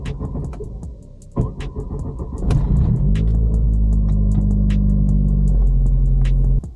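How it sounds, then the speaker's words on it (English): A tuned Vauxhall Astra VXR engine cranks over and fires up on a cold start, settling into a loud, rough, rumbling idle that drones on steadily at close range. "the cold start is pretty bad"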